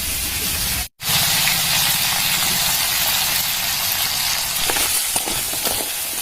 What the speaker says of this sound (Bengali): কাঁকড়াটা আবার ভেজে নেই